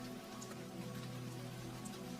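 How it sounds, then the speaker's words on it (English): Steady rain falls outside a warm cafe, a soft, even patter with a low hum beneath it and faint scattered drops, quiet and unbroken throughout. "as the rain continues outside and as the cafe stays warm around you"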